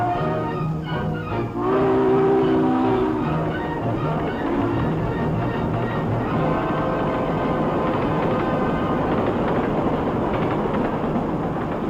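A train passes on a railroad, giving a loud, continuous rolling rumble with a few brief tonal notes near the start.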